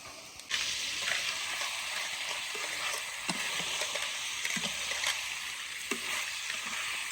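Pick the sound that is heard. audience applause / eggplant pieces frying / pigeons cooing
eggplant pieces frying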